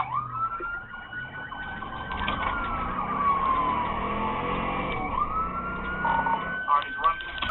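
Police car sirens wail during a chase of a suspect's truck, rising and falling tones over engine and traffic noise, loud and fairly close.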